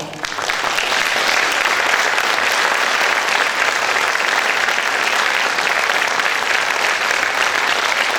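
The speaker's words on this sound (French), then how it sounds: "Donc j'aimerais qu'on lui fasse un tonnerre d'applaudissements." Loud, dense applause from a theatre audience at a variety show in a casino, steady and unbroken from start to finish with no talk over it.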